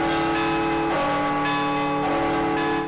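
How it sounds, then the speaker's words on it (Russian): Church bells ring together in a rich, sustained peal at a bell-ringing festival, with layered tones and fresh strikes about every second. "Сегодня колокола звучат по всему Алексеевскому району и далеко за его пределами"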